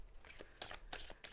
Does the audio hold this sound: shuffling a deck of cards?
yes